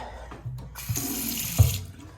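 Water runs from a bathroom sink faucet in a hotel room for a couple of seconds, a steady close splashing hiss with a small knock partway through.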